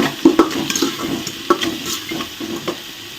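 Oil sizzles in a pan as spices and aromatics are stirred and sautéed for South Indian dal rice, crackling pops and spatula scrapes close up with no talk.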